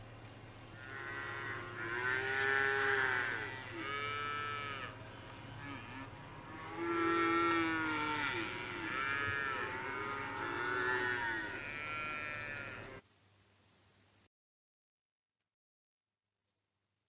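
Cattle moo repeatedly and loudly in long drawn-out calls, calves separated from their mothers, several overlapping voices over a steady low hum before the sound cuts to near silence.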